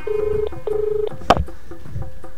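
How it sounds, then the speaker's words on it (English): Telephone dialing tones placing a call: two long steady tones, a sharp click, then a few shorter fainter tones, clear and close on the line. "Here's my phone call to Kevin Bracken."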